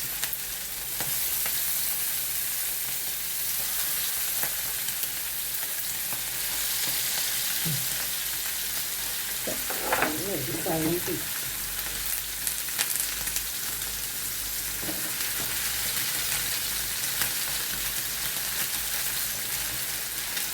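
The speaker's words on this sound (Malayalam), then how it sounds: "അങ്ങനെ നമ്മുടെ മീൻ വറുത്ത് കഴിഞ്ഞു" Fish fries in a pan with a steady, dense sizzle that holds level throughout, broken now and then by a few brief pops and clinks.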